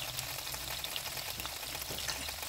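Canned sardines sauté in a pan, giving a dense, steady sizzle and crackle up close for a couple of seconds, with faint stirring and no voices.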